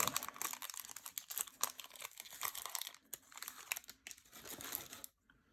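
Crinkly foil wrapper of a Magic: The Gathering Eldritch Moon booster pack being torn open by hand, a close, steady run of rustling and tearing that stops abruptly near the end.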